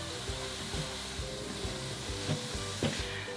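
Chopped red and green chilli fries softly in a pan, a steady quiet sizzle with a few light stirring knocks, no talking.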